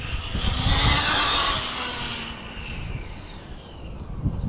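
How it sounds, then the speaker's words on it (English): A Traxxas 4tec 2.0 AWD brushless RC car runs with a loud, high electric whine that swells close by, then eases and rises again, with no talking. "And it has a real distinctive sound to it. Sounds quite a bit different than any other Traxxas vehicle I've ever had."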